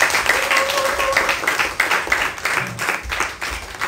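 Applause from an audience at an evening worship service of a church volunteer retreat, a dense, steady patter of clapping that lasts throughout, with faint pitched tones and voices mixed in.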